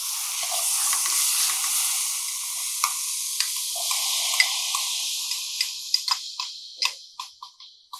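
Tomatoes added to hot ginger garlic paste in a pan for an Indian zucchini curry, a strong hissing sizzle that gradually fades into sharp sputtering pops and crackles.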